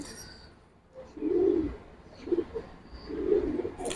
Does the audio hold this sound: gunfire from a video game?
no